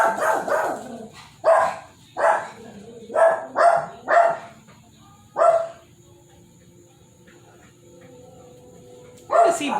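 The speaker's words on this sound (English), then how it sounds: "What is he barking at?" A dog barks repeatedly in short bursts, loud and close, with a few pauses between barks and a final bark after a longer gap.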